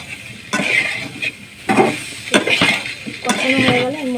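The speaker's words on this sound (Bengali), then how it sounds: "নাড়িয়ে নিচ্ছি।" Soybean curry with turmeric and salt is stirred in a pan, giving bursts of scraping and metallic clinks over a low sizzle, close and fairly loud.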